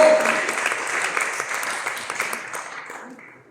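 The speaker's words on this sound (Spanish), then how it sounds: "Yo estuviera aplaudiendo a Dios por eso." A church congregation applauds during a sermon, a dense wash of many hands clapping together that starts loud and gradually fades out over a few seconds.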